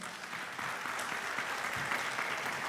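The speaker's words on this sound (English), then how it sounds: "Let's give them another round of applause." An audience at a panel discussion claps in a dense, steady wash throughout, filling the space evenly at a constant loudness with no voices rising above it.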